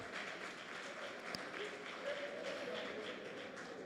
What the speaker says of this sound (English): Another round of applause for that segment.